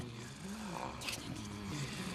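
Snoring from sleeping figures in a children's craft show scene, a faint, low rumbling rasp that rises and falls in slow breaths.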